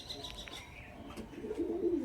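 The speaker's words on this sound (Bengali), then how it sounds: "এটা হচ্ছে নর, আর এটা হলো মাদি পায়রা।" Roller pigeons, a male and a female, give soft low coos close by, the calls rising near the end over faint chirps and background noise.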